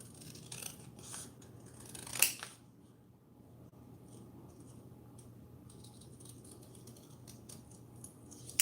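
Scissors fussy-cut paper for a junk journal, producing a series of small, close snipping clicks in irregular rhythm with one sharper snip standing out, over a faint steady room hum.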